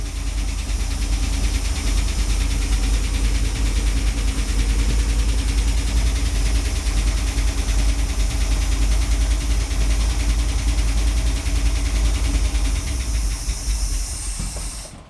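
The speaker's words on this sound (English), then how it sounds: "Got a little bit of lifter tick." A 1979 Dodge Power Wagon engine, revived after sitting abandoned for 25 years, runs steadily with a loud, close rumble and hissing roar, a fine rapid lifter tick threaded through, then fades as it dies at the end.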